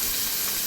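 Chopped garlic, onion, curry leaves and ginger hit hot oil in a pan for cashew curry, giving a brief burst of loud, bright, hissing sizzle heard close up.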